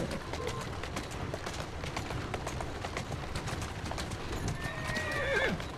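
Steady clip-clopping hooves run under a busy background, and a horse whinnies near the end, moderately loud within an Assassin's Creed Syndicate game soundscape.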